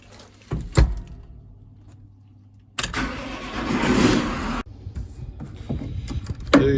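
A New Holland T7.270 diesel tractor that has sat unused for a long time cranks briefly and catches, then settles into a steady low idle after a couple of clunks, close and fairly loud.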